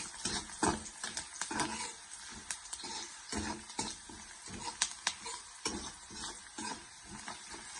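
Dried red chillies and salt are sautéed in a pan for a Tamil beef fry, with a steady close sizzle broken by frequent scraping, clattering spoon strokes and no talk.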